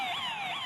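Keypad tamper alarm sounding from a Paradox security alarm panel: a loud, steady electronic two-tone warble sweeping up and down twice, with no voices.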